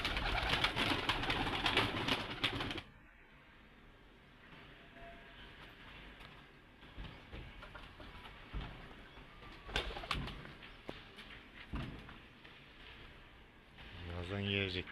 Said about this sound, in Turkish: Çıkarayım kuşları.